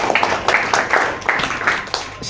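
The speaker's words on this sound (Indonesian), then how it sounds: "tepuk tangan" Applause and clapping from an audience at an organisation-management training session for student executive board members, a brisk burst of many hands lasting a couple of seconds with uneven rhythm, fairly close and steady.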